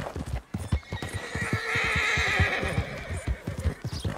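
Horses in the Red Dead Redemption 2 video game snort and let out a long, wavering whinny over a steady run of close hoof clip-clops, with the hoofbeats pausing briefly under the neigh and then resuming.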